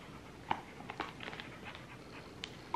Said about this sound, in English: Sorry, puppy's trying to get up here.